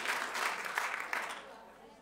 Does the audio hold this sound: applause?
yes